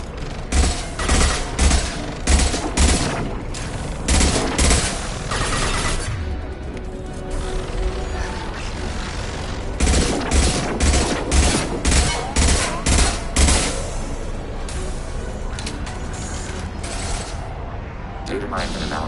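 Gunfire pops in repeated bursts in the game Mass Effect 2, loud and near, over a mechanical background hum, with voices speaking at times.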